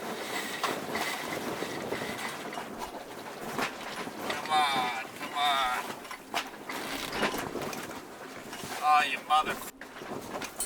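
A sailboat tacking through the wind while sailed solo, steady wind and water rush with creaks and rigging clatter, plus brief whining mechanical sounds, with a person speaking now and then.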